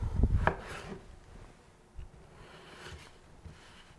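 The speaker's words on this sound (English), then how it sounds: "So I usually just cut them in half, then down the middle and kind of at a 45-degree angle and make some nice little wedges" A knife cuts vegetables into wedges on a board, with a few firm chops early on and then softer isolated cuts spaced apart, close and quiet with no talk.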